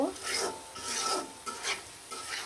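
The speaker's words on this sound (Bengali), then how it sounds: "ধনিয়ার গুঁড়া, জিরা, হলুদ, মরিচ, গরম মশলা দিয়ে ভালো করে মশলাটা কিন্তু আমি কষিয়ে নিব" Ground coriander, cumin, turmeric, chili and garam masala being stirred and fried in a pan, a soft scraping rasp with gentle sizzle in several repeated strokes, close and fairly quiet.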